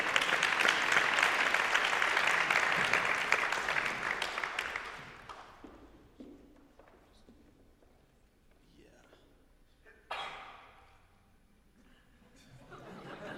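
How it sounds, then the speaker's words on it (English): An audience applauds sponsors at an evening event: loud, dense clapping for about five seconds fades out, then quiet murmuring and scattered talk follow, with a brief burst of voices near the end. "You can clap."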